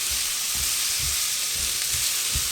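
Red onion slices fry in hot oil for a burger relish, giving a steady, close sizzle with soft low bumps as the slices are turned. No one speaks.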